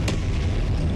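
The Confringo blasting spell going off in Hogwarts Legacy, a short, dense rumbling blast with a sharp crack at the start, loud and close.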